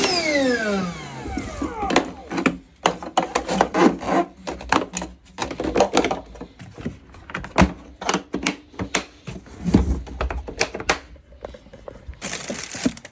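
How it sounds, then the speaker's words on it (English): Close floor wiping beside a toilet during a fill valve repair: repeated rough rubbing and scraping strokes in irregular bursts, fairly loud, with a few clunks and no talking. "Here I am cleaning the floor a little bit because I didn't lay a towel down"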